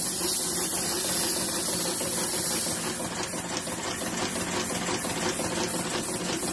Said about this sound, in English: you can see the engine runs nice and smoothly